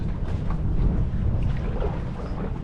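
Low rumbling engine drone of a tour boat motor off Jekyll Island, with wind buffeting the microphone, steady and close, no voices.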